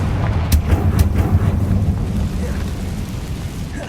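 Confringo spell blasts in the Hogwarts Legacy video game: sharp cracking bursts in the first second and a half, then a heavy, rolling low rumble that lingers and slowly fades, with no talking.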